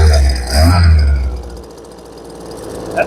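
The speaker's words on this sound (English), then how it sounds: "That's a good running blower." A Kawasaki small two-stroke leaf blower engine idling at no throttle, a loud low rumble that eases into a softer, uneven putter, ending with a brief knock.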